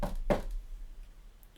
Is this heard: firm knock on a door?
yes